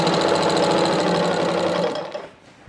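Sewing machine stitching traditional patchwork binding, a loud close rapid rattle of needle strokes running steadily, then stopping abruptly near the end with a few faint clicks.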